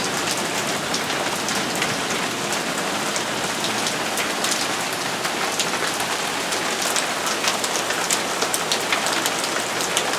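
Heavy rain pours down steadily during a sudden downpour under a flash flood warning, a dense, constant hiss of drops hitting surfaces at close range with no voices.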